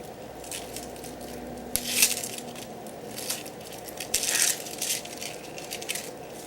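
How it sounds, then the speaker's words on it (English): An onion is chopped finely with a knife on a board: quiet, irregular crunching cuts and soft taps, with a couple of sharper crisp bursts, close by and with no talking. "Okay, and of course, an onion. I'm going to cut this up a lot finer as well."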